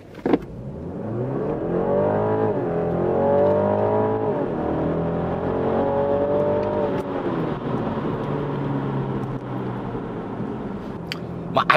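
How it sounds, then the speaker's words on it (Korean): A BMW 330e plug-in hybrid sedan pulls hard from a standstill, its engine note rising steadily through several upshifts over a long, loud acceleration run, heard from inside the cabin with no talk. "듣기 좋은 엔진 사운드도 가속의 즐거움을 좀 더 높여주고 있고요."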